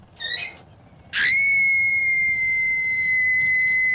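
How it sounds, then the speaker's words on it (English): A woman's loud, piercing scream: a short shriek, a brief pause, then a long, intense, unbroken high-pitched scream held for over two seconds, with no talking. "She screamed so loud and so long that windows broke all over town."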